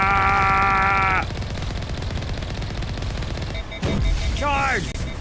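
Rapid automatic gunfire rattles in a Mass Effect firefight, loud and dense throughout, with tonal game effects at the start and a voice shouting briefly near the end.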